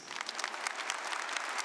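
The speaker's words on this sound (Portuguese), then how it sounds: "Uma salva de palmas a elas." A church congregation at Mass claps for the mothers, a dense, steady wash of applause from many hands filling the short moment.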